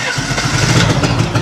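A robot-built car in a video game runs its engine loudly, a dense, rough mid-pitched motor roar that stays strong and close for the whole short stretch.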